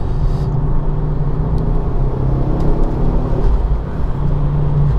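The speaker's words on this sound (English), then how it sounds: "Oh, I don't know if you can hear that intake, but the intake sounds fantastic." Inside a Ford Focus RS Mk2 on the move, a loud, steady engine and intake drone with low road rumble fills the cabin, rising slightly in places, and no one speaks.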